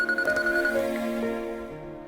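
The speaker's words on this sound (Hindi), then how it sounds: "ऐश्वर्या का फोन है" A phone ringtone plays a bright electronic melody of short repeating tones, clear and close, then fades out near the end with no voices.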